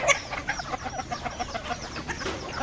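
Native village (gavthi) chickens cluck in quick, uneven bursts, several birds close together, clucking in a busy, continuous rhythm with no talking.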